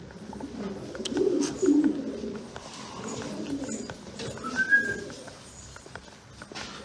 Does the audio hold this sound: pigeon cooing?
yes